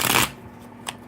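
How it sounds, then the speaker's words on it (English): Tarot cards shuffled by hand in one short, loud riffling burst at close range, followed by quiet and a single faint flick of a card near the end. "Let me shuffle here."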